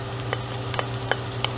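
Finely minced garlic sizzling in a hot pan for butternut squash soup, a steady close frying hiss with a low hum beneath and a few light clicks of a spoon, no talk.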